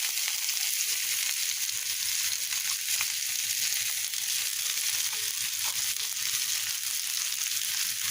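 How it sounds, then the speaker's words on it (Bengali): Chopped onions frying in hot oil in a kitchen pan, added after fish was fried in it, giving a steady, continuous sizzle that holds even throughout with no voices. "এবার পেঁয়াজ কুচি দিয়ে দিলাম"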